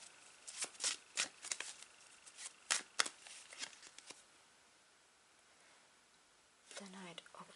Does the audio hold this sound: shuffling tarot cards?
yes